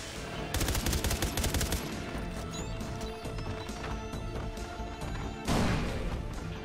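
Gunfire in Far Cry 3 Blood Dragon: a rapid automatic burst near the start, then scattered shots and impacts over a constant background, and a louder blast toward the end.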